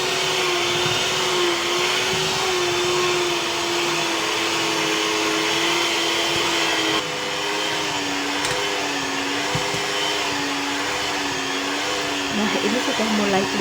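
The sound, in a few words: electric mixer kneading bread dough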